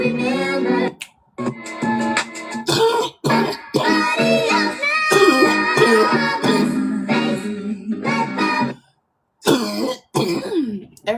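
A woman coughs and clears her throat again and again in loud, close bursts separated by brief pauses, with no talk in between.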